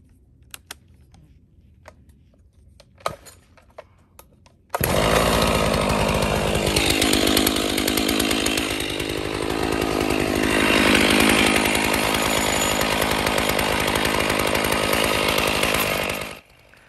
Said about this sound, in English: So there's the Alaskan mill set to 1 inch.